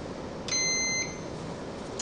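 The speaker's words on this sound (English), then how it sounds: "So that beep tells us that this is the conducting side" A single short electronic beep from a continuity tester, high and clear, sounding for about half a second against quiet background noise.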